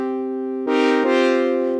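Two layered synth oscillators playing a sustained lead tone, rich in bright harmonics, with a note change partway through that adds a breathy, textured attack; loud and alone.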